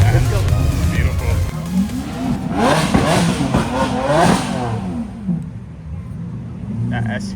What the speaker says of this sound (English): The V12, the distinct sound of the V12. You can never miss it, guys. That thing sounds crazy.